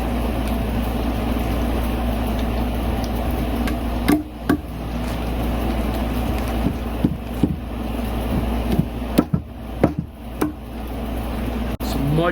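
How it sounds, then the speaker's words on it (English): Snap-on Tools hammers strike during mushroom-growing work, a handful of sharp irregular knocks standing out over a steady engine-like drone and wind rumble, with speech in the background. "Some much better hammers from Snap-on Tools."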